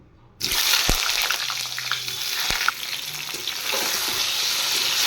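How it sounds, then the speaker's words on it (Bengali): Cut eggplant pieces with turmeric and salt hit hot oil, bursting into a loud, close, steady sizzle after a brief silence, with a couple of sharp spatula knocks against the pan. "এবার বেগুনগুলো ভেজে নিচ্ছি"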